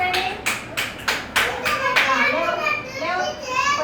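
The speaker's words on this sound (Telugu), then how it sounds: "Very good. క్లాప్స్ కొట్టండి." Children clap together during a classroom shapes-and-numbers activity, a few sharp uneven claps near and loud, while a voice and an adult's speech carry on around and after them.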